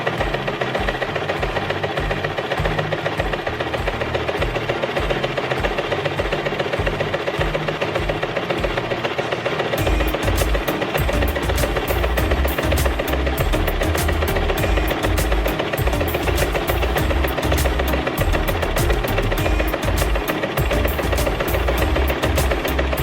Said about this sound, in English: Now I'm going to go ahead and sew them together.